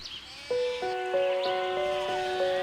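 An old goat bleats in a string of drawn-out, tonal, wavering calls that follow one another closely, heard up close and loud.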